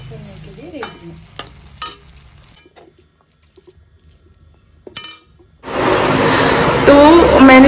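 Kala chana usal mixed with red chili powder and salt: a few sharp spoon clinks and knocks against the pot, then a loud, steady sizzling hiss for the last couple of seconds.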